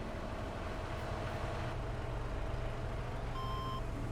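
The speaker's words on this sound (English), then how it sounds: "my truck sounds like the hippo" A truck engine rumbles steadily in the logging and farming game Western Wilds, a low continuous drone, with a short run of high reversing beeps sounding near the end.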